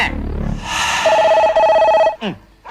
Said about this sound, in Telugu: మధ్యలో టెలిఫోన్ ఒకటి, అటు టెలిఫోన్ ఇటు కుక్కలు ఒకదానికోటి పోటీ పడి అరుస్తున్నాయి